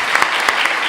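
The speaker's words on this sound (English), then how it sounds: "Please join me in a big applause for this excellent talk." A conference audience at a medical symposium gives a short burst of close, steady applause after a talk, with a few louder individual claps standing out.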